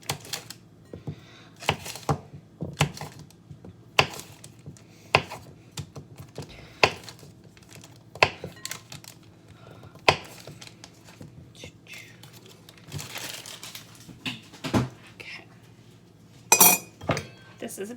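Pastry cutter chopping butter into chunks in a bowl, a series of irregular sharp taps and clinks spread across the clip, with quiet speech running underneath.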